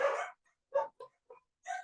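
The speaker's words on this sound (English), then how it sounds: "Sorry about the dogs." Dogs barking indoors nearby, one loud bark followed by several shorter, softer yips and barks spaced irregularly, sounding alone without talk.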